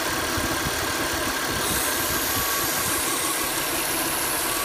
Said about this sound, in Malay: ada bunyi yang tak sekata daripada enjin pada ref yang tinggi